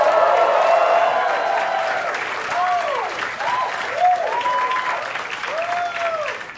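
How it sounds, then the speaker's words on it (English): Comedy club audience applauding during a stand-up set; a dense burst of clapping starts loud and gradually thins out, with a speaking voice coming in over it. "You're clapping"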